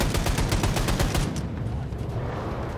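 Rapid automatic gunfire in a Wolfenstein II firefight, a loud burst of evenly spaced shots that stops after about a second and a half, leaving a lower rumble of combat.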